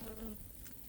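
Flies buzz close by near a tent at a steppe campsite where fish is being fried, a steady droning hum that holds through the whole second.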